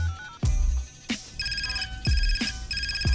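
A phone rings after a speed dial in a 2005 50 Cent: Bulletproof cutscene, electronic ring tones repeating in short bursts, with sharp percussive hits between them, loud and close.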